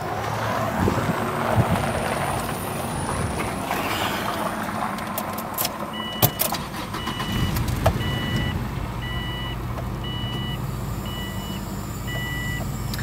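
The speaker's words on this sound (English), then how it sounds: "let me go ahead and start it up for you so you can hear the outside of this vehicle" A 2003 Subaru Outback AWD engine cranks and settles into a steady idle, with a faint repeating electronic chime sounding alongside.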